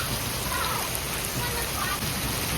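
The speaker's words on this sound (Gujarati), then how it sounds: "વધતો જાય હવે વરસાદ" Heavy monsoon rain pours steadily in Botad village, a dense even hiss of drops on surfaces with no break.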